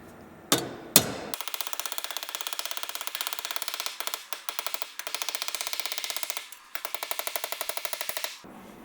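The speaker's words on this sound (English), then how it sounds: "I'm gonna hammer these down right now." Sheet metal being hammered on a homemade shrinker tool to form curved flanges, two loud opening blows followed by rapid, rhythmic metallic strikes in quick bursts with brief pauses, close and sharp.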